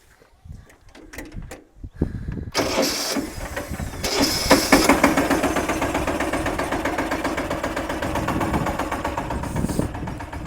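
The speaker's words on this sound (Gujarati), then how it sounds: "આ મારું કેપ્ટન ટ્રેક્ટર છે" A Captain mini tractor on a groundnut farm cranks over with a few clunks, then its engine catches and settles into a loud, steady, rhythmic chugging idle close by, with no talk.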